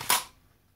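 A single sharp crack from an ASG airsoft Spas-12 shotgun, close and loud, with a quick decay into near silence.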